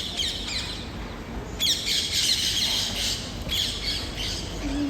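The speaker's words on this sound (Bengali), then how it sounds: "এখানে টিয়ে পাখি আসে" Harsh, repeated parrot squawks ring out close by in a few bursts over steady background noise.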